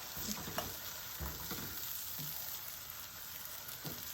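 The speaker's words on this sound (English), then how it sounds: "I've now added the garlic, and I'm going to add a can of tomatoes with the green chilies." Canned tomatoes with green chilies cook with onions and garlic in a pan, giving a quiet, soft simmering sizzle with a few light stirring knocks scattered through it.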